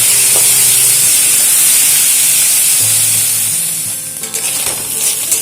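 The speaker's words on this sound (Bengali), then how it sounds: "এবারে মাছগুলোকে একটু ভেজে নিচ্ছি" Small mourala fish frying in oil with turmeric and salt: a loud, close, continuous sizzling hiss that eases slightly near the end, with faint clatters of stirring and no speech.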